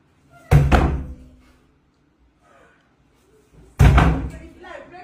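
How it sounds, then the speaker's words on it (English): Two heavy, loud bangs strike a door a few seconds apart, each a sharp close thud with a short ring-out, separated by near silence with faint background movement. "Joy, I will bring down this door."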